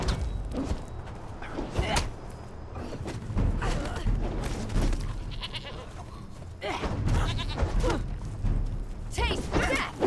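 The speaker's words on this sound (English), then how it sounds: "Kill all the goats." Goats bleat in a video game farming scene where they are being attacked, several short cries scattered among thuds and game noise, with a voice talking over much of it.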